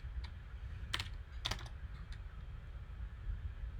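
Computer keyboard typing comes close and clear as a few scattered, sharp key clicks in short bursts over a quiet background hum, with no talking.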